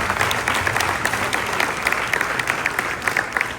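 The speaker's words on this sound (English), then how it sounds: "Round of applause to them." Sustained audience applause at a formal Bastille Day 2025 embassy reception in the Philippines, honoring Filipino athletes of the Paris 2024 Games; dense, steady clapping from a sizable crowd, fairly loud and continuous throughout.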